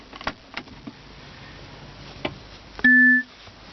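A 2008 Saab 9-3 BioPower chimes with one clear electronic beep of about half a second as its power switches on. Faint clicks and cabin handling noises sit around it.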